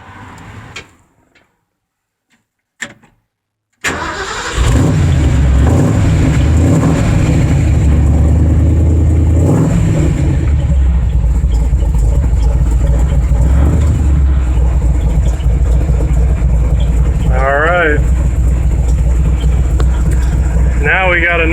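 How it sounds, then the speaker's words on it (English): A car engine fitted with a Holley carburetor cranks after a few clicks and catches, then settles into a loud, steady idle close by; a voice speaks briefly near the end over the running engine. "let's key this thing up and see how she runs."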